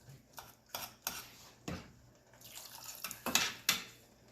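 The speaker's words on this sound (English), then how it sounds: "I'm going to add a little water to this" Water poured into a pot of thick ragda, a dried-pea curry, in a home kitchen: a series of short splashes and drips with a few clinks of pot and spoon, close and fairly quiet, no talking.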